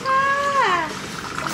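Cat meowing at a hot spring in Chiang Rai, Thailand: one clear, close meow that slides downward at its end, over a steady wash of background noise.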